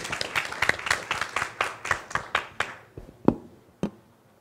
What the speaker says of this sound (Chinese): 热烈的掌声再欢迎一下